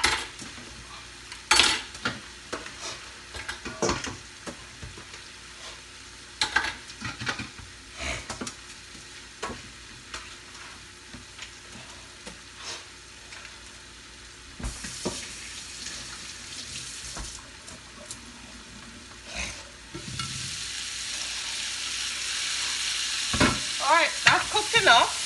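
Food sizzles in a frying pan while a kitchen sink tap runs and dishes are washed, with stirring clatter and water splashing that grows louder toward the end; no talking.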